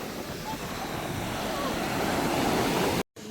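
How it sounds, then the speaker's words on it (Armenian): Sea waves breaking on the beach at Calella, Spain: a continuous broad wash of surf, fairly loud and steady with wind noise, cutting out briefly just before the end. "Լավ, ինչ լավ ալիքներ ունի հավեսին"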